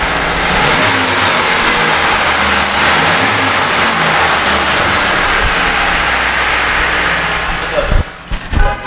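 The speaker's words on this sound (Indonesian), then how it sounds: "Nah, ini untuk suara mesinnya." A Mitsubishi T120SS pickup truck engine runs loud and close at a steady idle, then a few knocks and handling noises near the end.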